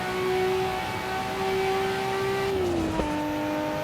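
Nissan Skyline GTR R34 engine in the racing game Assetto Corsa at the Nurburgring, a steady loud engine drone holding pitch, then dipping briefly as the gear shifts and settling lower, alone with no talk.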